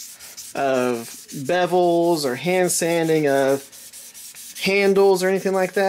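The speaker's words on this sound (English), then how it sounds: "there's nothing super interesting about the hand sanding of bevels" Hand sanding the bevels of a 5160 steel chopper knife: repeated rubbing strokes in steady bursts with squeaky, tonal scraping, while someone talks over them.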